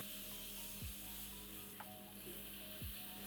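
Red onion paste and bay leaves fry in hot oil with a soft, constant sizzle, faint and even, with a few light scrapes of stirring.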